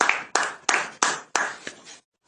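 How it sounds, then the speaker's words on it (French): A church congregation claps in unison, five or six strong rhythmic bursts of hands striking together, loud and close, before stopping abruptly into silence. "Acclamons très fort."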